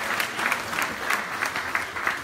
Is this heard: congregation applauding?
yes